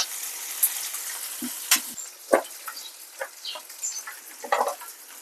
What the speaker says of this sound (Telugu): ఇవన్నీ ఒక దోరగా వేగిన తర్వాత టమాటాలు, దొండకాయలు వేసేసి కొద్దిసేపు మూత వేద్దాం